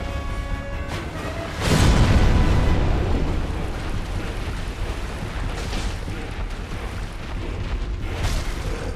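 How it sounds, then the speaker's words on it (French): In Dark Souls Remastered, a single heavy explosion bursts loudly about two seconds in, then fades into a long rumbling roar that lingers under the game's ambient sound. "fallait bien que je me prenne cette explosion aussi"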